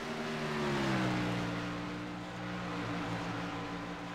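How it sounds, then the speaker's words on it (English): IndyCar race car at Phoenix easing off its engine RPMs before pit road, a steady droning engine tone that sags slightly in pitch, heard over a continuous broadband race-track roar. "We hear the 48 starting to lower the RPMs there."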